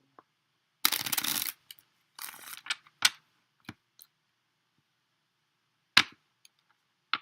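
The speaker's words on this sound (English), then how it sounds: "I usually shuffle all my cards before I start doing readings" A stiff deck of tarot cards is shuffled up close: a long riffle burst, a shorter second riffle, then scattered sharp taps and snaps of cards being squared and handled in a quiet room.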